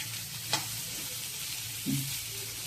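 Spiny gourd sizzles steadily in hot oil tempering in a pan, a constant close hiss with a couple of soft knocks from stirring.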